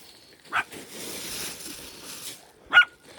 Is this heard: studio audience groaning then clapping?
no